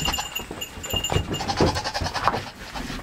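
Goats bleat repeatedly close by on a farm path, their wavering cries overlapping in a steady run of calls with some rustling in the background.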